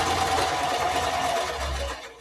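A sewing machine stitches steadily around the edge of a quilt, its continuous motor whir running close and fairly loud before tapering off near the end.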